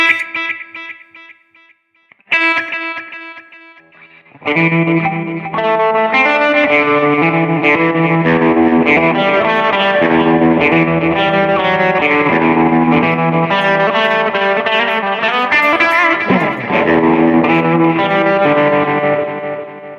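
A few sparse electric guitar notes through a BOSS eBand JS-10, then full distorted chords ring out with echoing repeats trailing behind them, sustained and loud.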